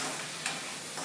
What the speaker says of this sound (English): add in 1 finely chopped tomato and saute it till it becomes soft